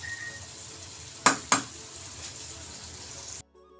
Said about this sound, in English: So I'll leave that to fry for a while.